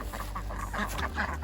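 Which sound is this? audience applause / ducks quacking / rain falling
ducks quacking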